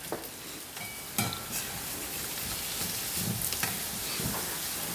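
Onions and curry leaves sizzle steadily in hot oil, with occasional scraping knocks of a spoon stirring the pan, a close, continuous frying hiss without talk.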